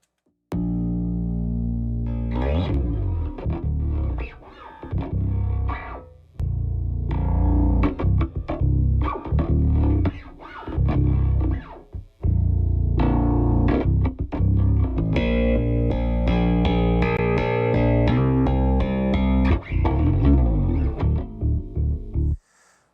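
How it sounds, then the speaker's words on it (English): Bass guitar playing a gritty riff through two bass amp simulators stacked together, giving a loud, distorted tone. The notes run continuously and up close, with a few short pauses and no talking. "once you combine them together, obviously they're going to get way louder. And let's listen to both."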